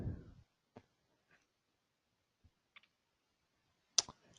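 Sparse, faint computer mouse clicks in a quiet room, a few isolated taps spread apart with a sharper double click near the end.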